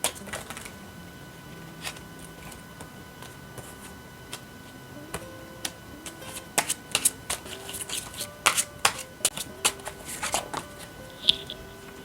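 Tarot cards are shuffled and laid out, giving crisp clicks and snaps that start sparse and grow into quick clusters of taps and slaps, close up over a faint background hum, with no talking.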